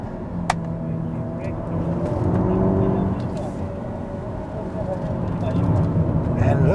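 A 2022 Hyundai Elantra N with a dual-clutch gearbox in N mode, its engine droning loudly from inside the cabin with abrupt shifts breaking the pitch, while a person talks over it.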